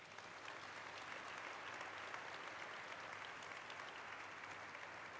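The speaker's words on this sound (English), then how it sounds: "A big round of applause for all of them." Steady applause fills a listing ceremony hall, a broad even wash of clapping that holds at a distant, fairly faint level throughout.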